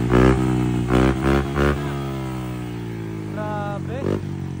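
A Honda Click scooter fitted with a KVIN aftermarket exhaust pipe revs in short bursts, several sharp throttle blips rising over a steady idle with a deep, bassy exhaust note.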